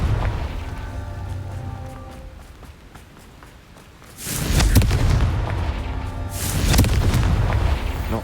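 A Confringo spell explosion in Hogwarts Legacy: after a quieter stretch with faint crackling, two loud booming blasts erupt in close succession, rumbling and close, with no talking.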